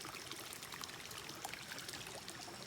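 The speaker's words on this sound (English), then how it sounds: "This water looks pretty clear. Nice little brook." A small, clear brook near the Neuse River cliffs flows quietly, a soft continuous trickling and bubbling heard faintly and close by, with no talking over it.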